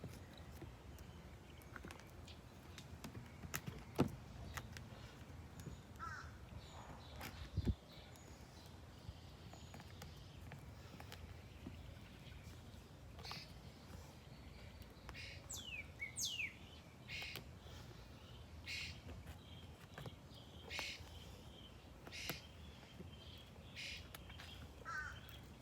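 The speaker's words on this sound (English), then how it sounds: "you can hear the birds. They're sounding pretty cheerful here this morning." Several birds call outdoors on a morning, with crow-like caws and scattered chirps that sound distant and faint over low ambient background noise.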